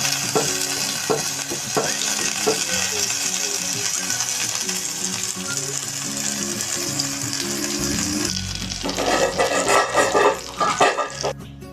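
Whole eggplant fritters (beguni) fry in hot oil with a loud, steady, close sizzle, then clattering and scraping near the end as they are turned.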